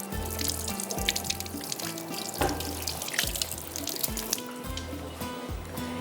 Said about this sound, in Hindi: पहले हाथ धो लूँ